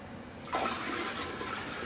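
Water gushes and swirls as a toilet in a residential home is flushed, starting abruptly and continuing as a steady rushing wash.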